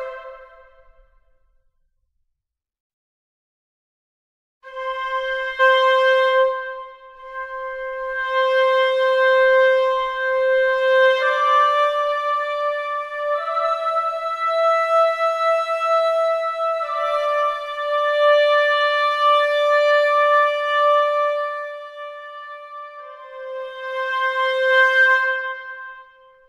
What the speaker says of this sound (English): that is the sound of Sparkling Woodwinds